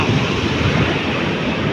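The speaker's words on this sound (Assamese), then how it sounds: "এইটো সাগৰৰ ঢৌ" Sea waves wash against the shore in a loud, continuous roar, with wind buffeting the microphone throughout.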